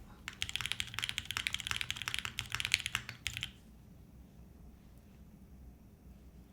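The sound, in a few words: typing on Suisei themed mechanical keyboard, cherry switches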